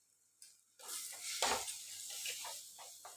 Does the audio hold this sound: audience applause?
no